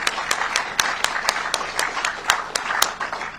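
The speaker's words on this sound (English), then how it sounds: "I think they deserve another round of applause." Audience at a live public event applauds, many hands clapping in a loose mix with a few sharp louder claps standing out near the front, and no speech over it.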